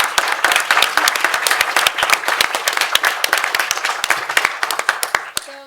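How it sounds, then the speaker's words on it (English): Large audience at an academic event on the Buddhist world in Asia breaks into sustained applause, dense steady clapping from many hands filling the room from start to finish, with a few sharper individual claps standing out near the end. "please join me in thanking everyone with a large round of applause"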